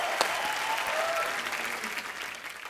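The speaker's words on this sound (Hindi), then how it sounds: "आप लोग तालियां बजाते रहिए" Studio audience at a comedy talk show applauding, dense sustained clapping from a crowd that fades slightly toward the end.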